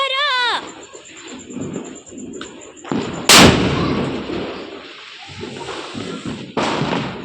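A jumper firecracker goes off during Diwali, giving a sharp loud bang after a rising whistle-like squeal, with fainter pops and crackles around it outdoors.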